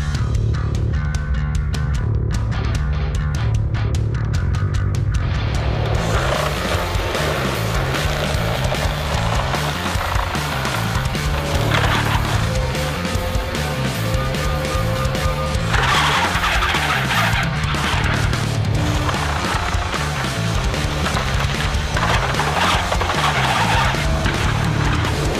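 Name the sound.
Quick Attach Xtreme brush mower running during a destruction test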